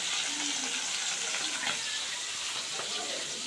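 Sitapati fish pieces rubbed with salt and turmeric fry in hot oil, giving a steady, close, hissing sizzle that runs unbroken with faint bubbling beneath.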